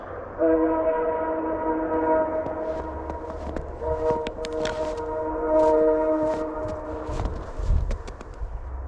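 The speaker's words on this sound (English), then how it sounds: "look at that train in the distance" A train horn sounds in long sustained blasts at a distance, with rumbling rail noise and a few clanks underneath.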